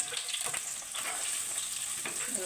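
Onion, ginger and green chili fry in hot coconut oil in a pan, giving a soft, steady sizzle with a few faint stirring scrapes, fairly quiet and close.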